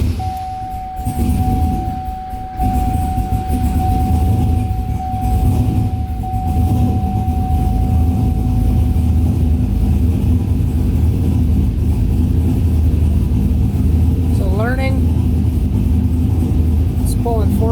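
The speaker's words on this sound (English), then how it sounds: "So I'm going to turn the truck on." A truck engine, warmed up and with a vacuum leak, runs steadily close by as a constant low drone, with someone talking over it much of the time.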